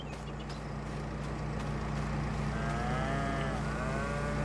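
Cows low in the Farming Simulator 22 video game, a drawn-out moo rising over a steady engine-like rumble in the background. No one speaks.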